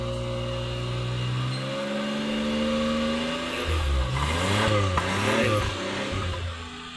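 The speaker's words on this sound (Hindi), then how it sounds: "हैदर इंजन से रेस दे ज़रा, भर के दे।" A 1985 Suzuki FX car engine idles at first, then is revved hard several times in close succession, its loud pitch swelling and easing with each blip of the throttle.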